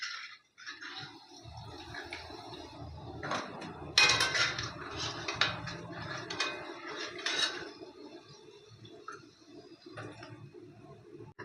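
A spoon scoops fried kalo jamun out of hot oil, with light metallic clinks and scrapes against the pan over a soft, steady sizzle, close and fairly quiet.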